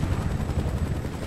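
Helicopter in the video game Battlefield: Bad Company 2, a steady loud rotor drone with low rhythmic thumping that runs unbroken, mixed with dense battle noise that may include gunfire.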